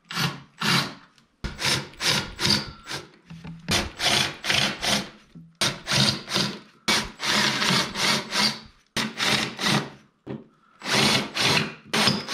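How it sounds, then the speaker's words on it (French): Power drill boring holes in a Polaris RMK SKS snowmobile during teardown, in repeated loud bursts of whirring drilling separated by short pauses, close up with no talking. "Et on se lance dans du perçage."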